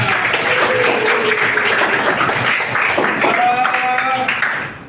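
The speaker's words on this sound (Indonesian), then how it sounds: "Beri tepuk tangan yang meriah." Large audience of teachers applauding at a university teacher-training ceremony, a dense, loud continuous clapping wash with voices and cheering mixed in.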